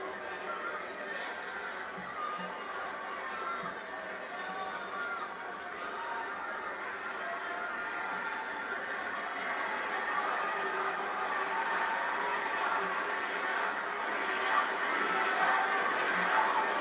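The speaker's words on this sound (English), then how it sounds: "Very loud night for Friday Night Smackdown here in Fort Worth." A loud arena crowd at a WWE Friday Night SmackDown event in Dickies Arena, Fort Worth, keeps up a steady, dense roar of chatter and cheering that swells slightly toward the end.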